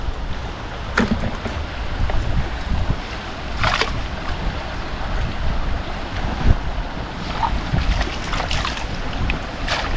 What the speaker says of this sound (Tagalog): Ang hangin oh.